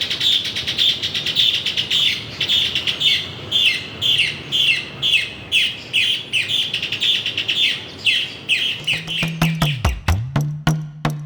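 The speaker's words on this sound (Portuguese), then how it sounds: "a cantoria de muitas aves, de muitos animais que ainda habitam as nossas matas" Many birds sing in a forest, one high chirping call repeated in a steady rhythm over a busy background chorus, with a low hum and clicks near the end.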